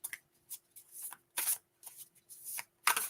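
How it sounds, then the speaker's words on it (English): A deck of cards being shuffled by hand in a series of crisp riffling bursts, about eight short rustles spaced irregularly, close and clear with no talking. "What I'm going to do is just shuffle them"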